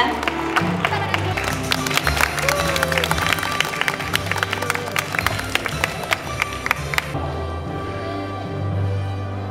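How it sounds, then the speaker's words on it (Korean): An audience at an industrial design exhibition awards ceremony claps for the winners, a dense patter of hand claps that fills most of the stretch under background murmur before thinning out near the end. "여러분 수상자에게 큰 박수 부탁드립니다"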